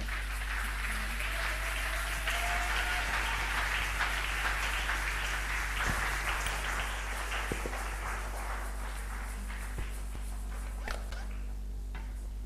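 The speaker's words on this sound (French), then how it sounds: "nous allons acclamer pour le Seigneur" A church congregation applauds and acclaims the Lord during a French-language worship service, a steady wash of clapping and voices running the whole time at moderate level, with low hum beneath.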